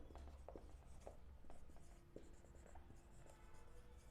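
A pen writes steadily on paper while an accounting journal entry is filled in, with faint scratchy strokes and small taps over a low room hum.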